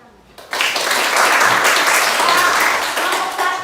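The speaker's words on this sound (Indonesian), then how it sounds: "Mari kita berikan tepuk tangan." After a classroom group presentation, the audience breaks into loud applause that starts suddenly and holds as a dense, continuous clatter of many hands, with faint voices mixed underneath.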